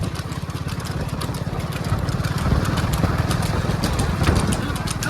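A motorcycle engine idles with a steady low pulsing throb, close and continuous, with voices and other noise mixed in around it.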